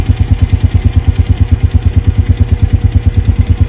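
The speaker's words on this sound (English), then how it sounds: "Sorry for the noise of the four-wheeler." A four-wheeler ATV engine runs steadily out in open hunting country in Idaho, its loud, close, rhythmic low chugging pulsing evenly throughout with no talk.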